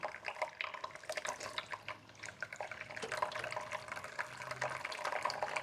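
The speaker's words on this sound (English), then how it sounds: "You want to make sure that you water it thoroughly." Water pours steadily into the soil of a potted plant cutting, a continuous close splashing and trickling with small drips and gurgles throughout, no voices.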